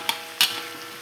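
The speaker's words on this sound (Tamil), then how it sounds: "கருவேப்பிலை, வெங்காயம், தக்காளி இதெல்லாம் சேர்த்து நல்லா வதக்கலாம்." Curry leaves, onion and tomato sauté in a pan, giving a faint sizzle broken by two quick scraping stirs of a spoon against the pan.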